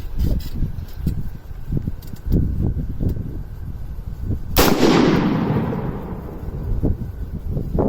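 A PTR 91 rifle, an HK 91 clone, fires a single loud, sharp shot at a 30-yard outdoor range, its boom decaying over a couple of seconds amid low rumbling background noise.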